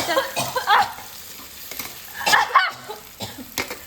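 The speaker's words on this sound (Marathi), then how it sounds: "आता टोमॅटो घातले आणि तापण आता शिजाक देऊया. थोडंसं ढवळून घेऊया." Spoon stirring tomatoes cooking in a hot pan, with a steady sizzle and frying hiss under irregular scraping and clattering strokes, close and fairly loud, no talk.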